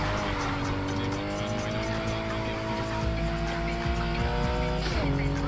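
In the racing game NFS Heat, a car slides into a handbrake skid. A loud, steady engine drone runs throughout, with tire noise under it and a brief shift in pitch near the end.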